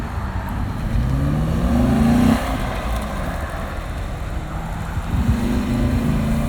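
A Corvette accelerates on a street-category autocross run at Carlisle, its engine droning loudly and steadily, rising to a harder pull near the middle and surging again toward the end, with an open-air outdoor wash around it.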